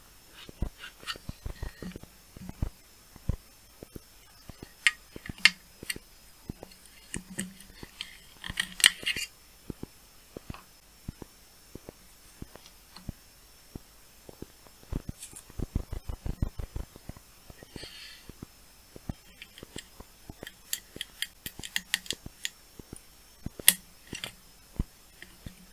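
Programmed PLD chips pressed into sockets on the CPU circuit card of a 6502-based Europe Card Bus computer: scattered sharp clicks and small plastic-and-metal taps, near and fairly quiet, with no talking.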